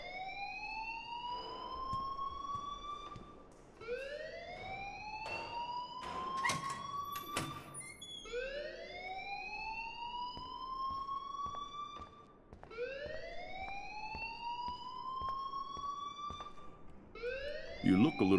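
A school fire alarm in the video game Life is Strange wails in repeated rising sweeps, a cycle every few seconds, moderately loud, with speech and other game sounds mixed in.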